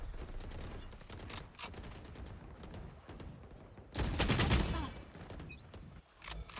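Repeated bursts of automatic gunfire spray in a video game, firing in short rapid volleys with a louder, denser burst partway through, and no talking.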